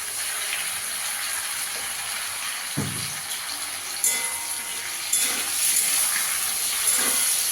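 Ground tomato paste sizzles in a pan with fried radish and potatoes for a fish curry, a steady, fairly quiet frying hiss with a few small pops and stirring scrapes.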